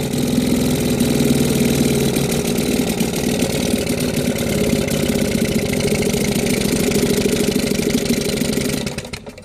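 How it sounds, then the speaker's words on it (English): A 1937 1.7hp Johnson Model 110 outboard motor idles loudly and steadily in a test barrel with a rough, chugging rumble, then winds down and cuts out at the very end. "Hard to get her to idle down kind of low in the barrel because of all the exhaust."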